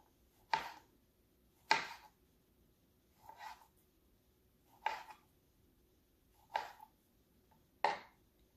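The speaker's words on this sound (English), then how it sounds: "Now we are going to cut up the sausage." A knife cutting sausage on a board, six sharp separate chops spaced about a second apart, crisp and fairly quiet with no talking.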